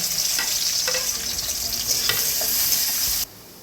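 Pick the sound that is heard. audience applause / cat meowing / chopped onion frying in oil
chopped onion frying in oil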